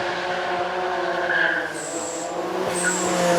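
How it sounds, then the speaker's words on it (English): A high-revving 460-horsepower V6 twin-turbo supercar engine wails past on a race track, its pitch climbing through gears with a faint turbo whistle, loud and sustained. "You're about to hear a V6 and 2 turbos sing away down the track."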